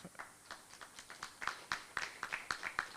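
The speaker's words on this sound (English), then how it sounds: "I hope you hear the applaud in the background" An audience after an online conference talk gives sparse, faint applause, a dozen or so separate handclaps in an uneven rhythm, distant and thin.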